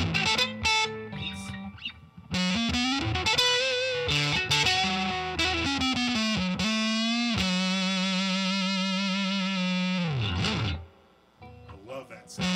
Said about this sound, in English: Oh, that fuzz is so good.